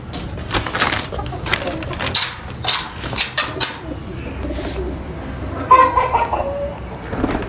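Chickens in a mini zoo coop give scattered clucks and short bird calls, close and intermittent over a faint background hum.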